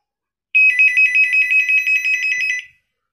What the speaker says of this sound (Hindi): अब मैं आपको इस सेट की रिंग बता देता हूँ